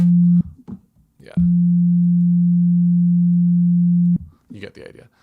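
Steady pure sine oscillator tone from a stock Reaper synth plugin, sounding in two sustained stretches, the longer lasting almost three seconds, with someone speaking in the gaps between them.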